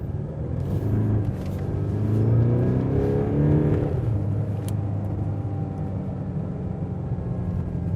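Camouflaged 2023 Mercedes GLC 300 pulling through a corner in Sport Plus mode, a steady engine rumble that swells in the first seconds with rising tones, then holds at a constant, fairly loud level without talk.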